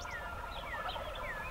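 Roosted wild turkeys gobble from a distance in a few rising, rattling calls over a steady background hiss, with no voices.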